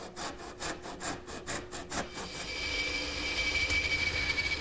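Hand saw cutting the back shoulder of a wooden tenon for a Morris chair, steady back-and-forth rasping strokes for about two seconds, then a continuous smoother sawing hiss, close and moderately loud.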